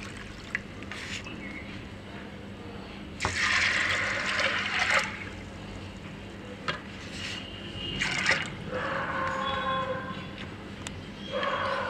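Four cups of water poured into a pressure cooker over washed, soaked dal and rajma, two clear bursts of pouring and splashing, close and moderately loud, with quieter kitchen clatter in between.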